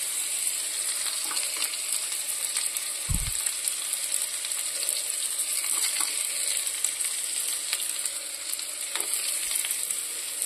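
Chopped garlic frying in melted butter in a pan, a steady close sizzle and crackle running throughout with one brief low knock.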